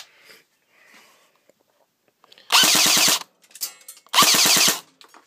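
A VFC MP5A4 airsoft gun fires two distinct bursts of rapid, evenly spaced shots, each lasting under a second, loud and close, with quiet clicks and handling noise between them.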